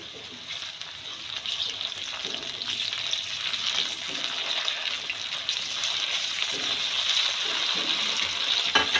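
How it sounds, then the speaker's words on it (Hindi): Frozen chicken pieces sizzle steadily in a pan of fried onions, a dense continuous frying hiss with faint stirring scrapes that builds slightly louder over the span. "प्याज फ्राई हो गया, अब इसमें चिकन ऐड कर दूँगी।"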